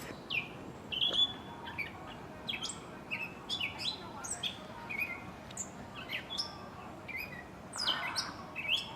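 Birds chirp at Bartram's Garden on the edge of the Schuylkill River, several short bright calls and tweets scattered irregularly over a quiet outdoor background.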